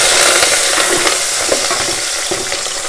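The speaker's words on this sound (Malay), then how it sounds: "Setelah minyak zaitun panas, masukkan bawang putih" Garlic sizzles and crackles steadily and loudly in hot olive oil, with occasional soft clicks of stirring in the pan.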